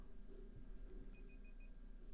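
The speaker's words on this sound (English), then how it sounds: "Oh, that is my timer." A kitchen-style timer goes off with four short, evenly spaced electronic beeps, faint beneath steady background noise from a qualifying broadcast.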